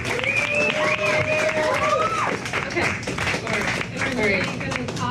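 Applause and clapping from the audience at a live art talk show, a dense, steady patter running the whole time with cheering voices and chatter mixed in over it.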